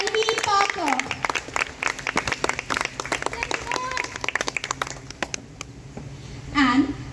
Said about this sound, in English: Let's give a round of applause to the senior under officer for the Girls Battalion, Tanvi Parker